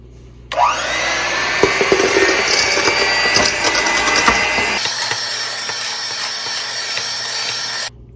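Electric mixer beating room-temperature butter and brown sugar for giant chocolate chip cookie dough, starting abruptly into a loud whirring motor drone with rattling beaters, shifting pitch midway, then cutting off sharply near the end.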